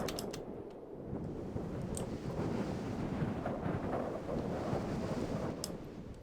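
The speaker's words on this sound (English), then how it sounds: "the wind rustles past our ears and we can hear it's windy" Steady, roaring mountain wind in Minecraft blows continuously with a low rumbling gust texture, fairly loud and unbroken, with no voices.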